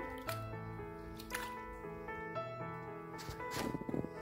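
Raw potato slices are stirred and mixed by hand in a bowl of water for chips, giving soft, quiet splashing and squishing sounds over steady background music.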